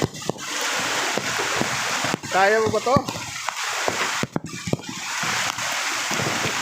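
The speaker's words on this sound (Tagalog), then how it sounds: "Yung agos ng tubig. Lakas na oh." Strong floodwater current rushing along a residential street in Montalban, Rizal during Typhoon Carina, a steady close roar of water with people talking over it.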